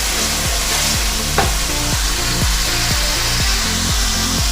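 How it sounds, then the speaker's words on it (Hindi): Urad daal frying in a pan, a loud continuous sizzle with a steady rhythmic scraping or stirring pulse repeating about twice a second throughout. "अब हमने इसके अंदर डालनी है दाल और दाल को अच्छी तरह हमने करना है फ्राई।"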